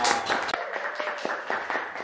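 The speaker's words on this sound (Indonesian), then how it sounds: "Tepuk tangan dulu dong." An audience claps to welcome a guest at a campus event, a short burst of fairly loud, irregular hand claps over about two seconds.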